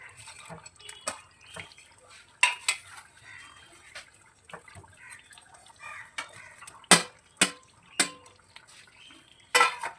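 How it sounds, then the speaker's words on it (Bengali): Fried chicken koftas are turned in a pan, producing sparse metallic clinks and scrapes with a few louder knocks of the spoon against the rim, over a quiet background. "এই কোপ্তাগুলো ভেজে রেখেছিলাম, সেগুলি সব এর মধ্যে দিয়ে ভালো করে আমি নাড়াচাড়া করে নেব"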